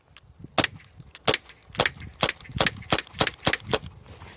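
Sharp, loud shots from a Glock 19 CO2 BB pistol firing at a motorcycle helmet, about nine cracks in a steady, fairly quick rhythm, each with a brief impact, close to the listener and with no talking.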